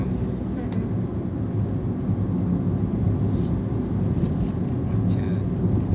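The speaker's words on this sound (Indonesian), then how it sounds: "Balik sekarang yang macet." Jammed traffic near Terminal Giri Adipuro in Wonogiri, a steady dense rumble of idling and creeping engines with no distinct passes, and a voice talking over it.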